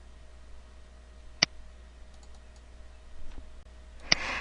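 Two crisp mouse clicks, far apart, while a color box is picked in a drawing program, over a quiet background hum.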